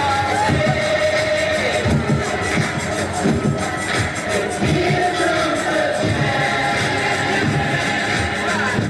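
A large crowd at an anti-Trump protest on the National Mall makes a dense, continuous roar of overlapping voices, shuffling and scattered cheers, with no single voice standing out.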